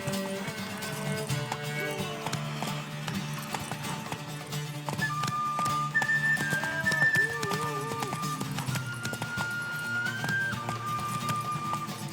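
Hooves of a galloping horse in The Witcher 3 clop in a quick, steady rhythm under game music, racing toward a tower.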